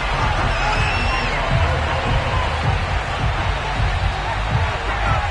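Dense, steady roar of a Buffalo stadium crowd cheering in an EA Sports NFL video game as the Bills run out of the tunnel, a continuous wash of noise throughout with no distinct pauses.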